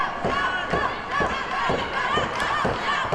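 Wrestling crowd at a tag match rallying behind Jacques, rhythmic chanting and cheering with repeated thumping beats, loud and continuous.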